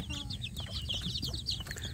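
Young kampung chicks peep and chirp busily while feeding, with a dense, steady stream of high, overlapping calls close by and a low rumble of farmyard noise underneath.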